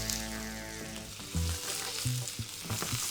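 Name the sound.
potatoes frying in hot pan with vegetable oil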